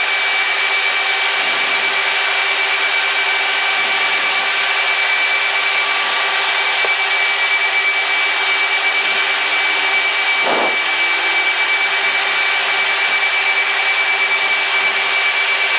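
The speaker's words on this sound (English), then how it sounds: "Now we're going to start our left engine, do the same thing there." A Blue Angels jet starting its left engine gives a loud, steady turbine roar with a constant high whine, heard close up and unbroken for the whole stretch, with one short thump partway through and no voices.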